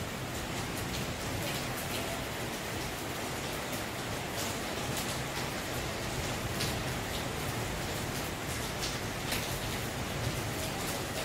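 Steady rain falls in a continuous hiss with scattered drop patters on surfaces, a light morning downpour heard evenly throughout without a break.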